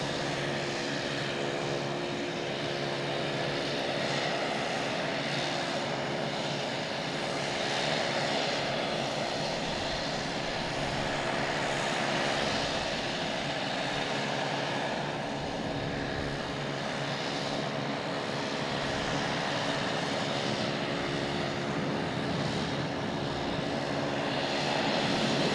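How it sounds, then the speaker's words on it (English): An American Airlines airliner landing at Boston Logan Airport, a steady, loud engine roar with a droning whine that holds throughout, heard alone without speech. "we have an American Airlines landing right behind it"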